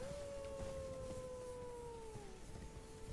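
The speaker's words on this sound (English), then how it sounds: "We hear the howling." A wolf in the video game Elden Ring gives a long, sustained howl that holds a steady pitch before sliding downward at the end, faint and distant over a low background murmur.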